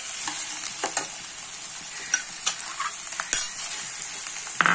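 Chopped tomatoes drop into a pan of sizzling vegetables, including capsicum, for Indian-style vegetable pasta, with a steady close hiss and scattered scraping stirs and clicks of a spoon.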